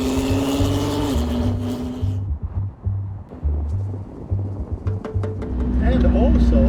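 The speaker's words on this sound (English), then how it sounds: "enjoy the first public drive of the CC850" Koenigsegg CC850 manual hypercar engine droning and revving through gear changes, loud and close, with a person talking over it.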